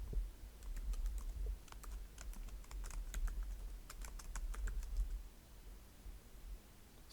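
Keys clatter on a computer keyboard as a Hello World program is typed, a close run of quick irregular clicks with short pauses, the pace thinning toward the end, over a steady low hum.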